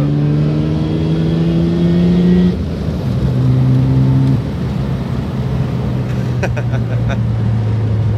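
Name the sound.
car engine running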